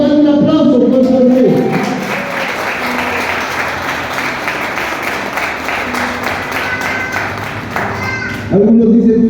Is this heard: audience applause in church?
yes